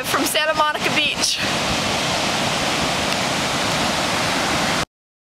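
Steady, rushing wash of waves and surf at Santa Monica Beach, broadband and continuous, with brief talk and handling noise at the very start before the surf carries on alone and cuts off abruptly.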